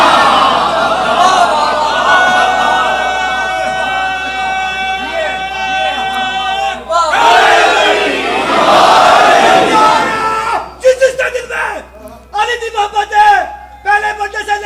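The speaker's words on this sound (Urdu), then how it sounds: "پہلے بندے سے لیتے آخری بندے تک دونوں ہاتھ بلند کرتے نعرے" A large crowd chants slogans in loud unison, sustained voiced calls that swell and break off into choppy, staggered shouts toward the end.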